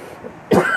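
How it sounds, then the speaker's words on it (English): A single harsh cough bursts out abruptly after a quiet stretch, loud and close, trailing into a brief rough rasp. "I'm still trying to shake this cough"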